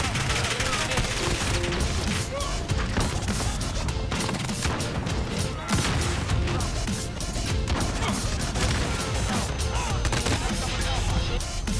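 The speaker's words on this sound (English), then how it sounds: "The first shot hits him, but the second one doesn't." Rapid gunfire and impact crashes from a Call of Duty match, a dense, loud, continuous barrage of shots and explosive hits filling the scene with game noise throughout, with a voice occasionally speaking over the action.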